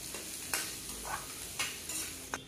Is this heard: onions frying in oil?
yes